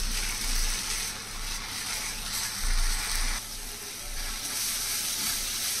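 Masala spices roasting in a pan for a sprouted chana sabji, with a steady close sizzle and hiss that swells and fades in waves, alone with no voices.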